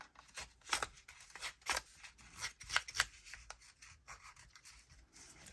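Paper being cut for a scrapbooking layout, a series of soft, irregular scissor snips and rustles close by, quiet and without speech.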